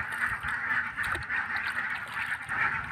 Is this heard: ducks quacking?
yes